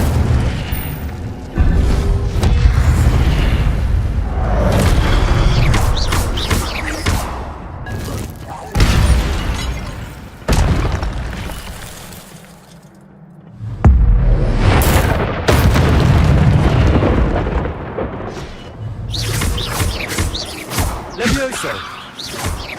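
Spell blasts in the video game Hogwarts Legacy, heavy booming impacts and thuds coming in waves over about twenty seconds, with battle noise and a voice talking over parts of it.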